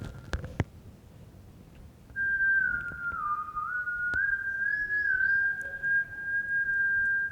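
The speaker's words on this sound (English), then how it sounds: "At exactly 3:03, we heard the whistling" A single long, thin whistle holds a wavering tone for several seconds, steady and eerie, after a few faint knocks in a quiet room.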